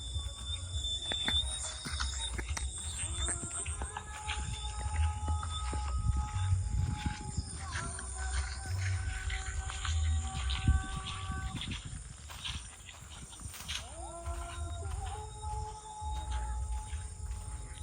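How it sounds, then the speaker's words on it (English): An imam recites aloud in a Ghana village, a wavering chanted voice carried from a distance over a constant low rumble and the general outdoor noise of the village. "As you can hear somebody shouting, they are reciting. I think it's a Muslim, an imam."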